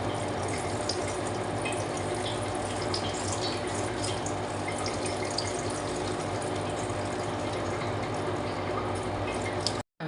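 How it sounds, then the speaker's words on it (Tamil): Water pours steadily into a low-cost planted aquarium tank with no CO2 setup, a continuous close splashing wash that runs unbroken for about ten seconds before cutting off abruptly. "வாட்டர் ஃபில் பண்ணிக்கலாம்."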